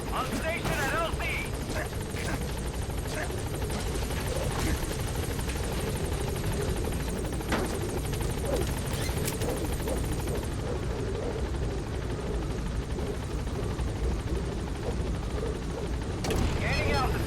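Pequod, a transport helicopter in Metal Gear Solid V: The Phantom Pain, hovers at a landing zone with a loud, continuous rotor roar and whine that fills the whole stretch, while a radio voice speaks over it.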